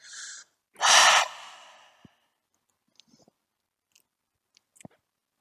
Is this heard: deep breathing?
yes